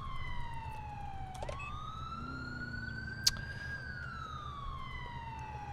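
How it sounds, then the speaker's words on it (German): A police siren in the video game GTA IV wails in long rising and falling tones, mid-distance, over a steady low engine rumble, with a sharp click partway through. "woher kommt denn hier die Sirene?"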